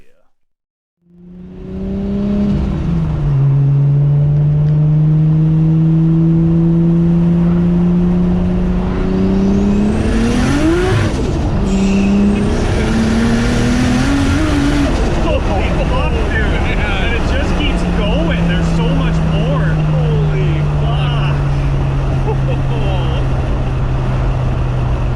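Nissan Skyline R34 engine revving hard on a dyno, a loud sustained roar that climbs and wavers for over twenty seconds, staying dense and close throughout after a brief quiet start.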